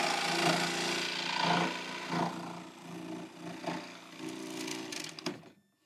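A Bosch jigsaw with a progressive trigger cuts through wood, its buzzing motor rising and dipping across several strokes before it winds down at the end, heard alone without talk.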